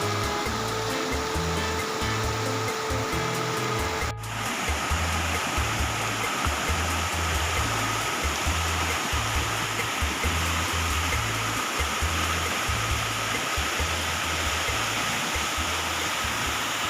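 Steady broadband rush of Puliyancholai waterfall and stream in the Kolli Hills, loud and continuous throughout with no talk.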